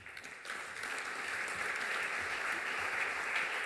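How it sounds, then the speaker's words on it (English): Audience applause welcoming panel guests at a Hupac anniversary conference, starting quietly and swelling within a moment into a steady, even wash of many clapping hands that stays level and somewhat distant. "Big round of applause, please, for our gentlemen"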